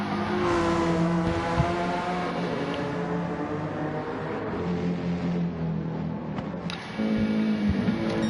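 Several GT race car engines in the Deep Forest circuit of a racing video game drone steadily along the main straight, with layered harmonic engine tones rising and shifting, close and loud, without talk.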